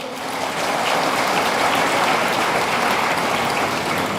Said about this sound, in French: je voudrais qu'on vous acclame très fort